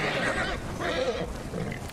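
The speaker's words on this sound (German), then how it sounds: "Pferd." A horse neighs in the open-world samurai game Ghost of Tsushima, a short whinny over steady outdoor game ambience, moderately close and with no talking.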